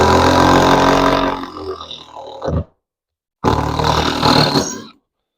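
A SKIL cordless drill drives screws into soft wood in two loud, close bursts of motor whir. Each run lasts a couple of seconds and then winds down, with a clear silent gap between them.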